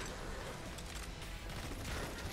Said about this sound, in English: We can't approach because of the artillery fire.